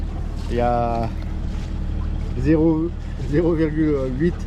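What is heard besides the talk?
small boat motor running on a pond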